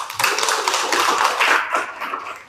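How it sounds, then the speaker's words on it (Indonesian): Children clap together in a classroom, a dense burst of quick overlapping hand claps for a couple of seconds that fades at the end. "jadi tepuk tangan dulu untuk Mas Fajar"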